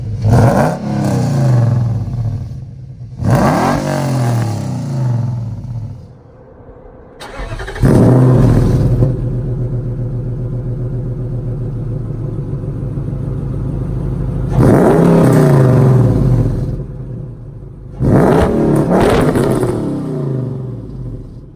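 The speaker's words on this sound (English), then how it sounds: "I'm gonna do a little exhaust clip, give it a couple revs" A 5.6-litre Nissan Titan V8 swapped into a 2005 Nissan Xterra revs hard several times at the exhaust, loud and close, with deep rumbling bursts separated by idling.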